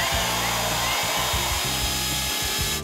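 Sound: electric hand mixer running

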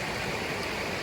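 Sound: water flowing in a forest stream

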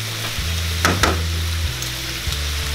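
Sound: meat and bone marrow frying in a pan

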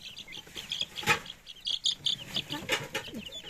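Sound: chicks peeping

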